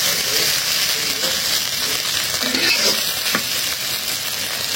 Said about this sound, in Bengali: হয়ে গেল মাছের ডিম ভাজা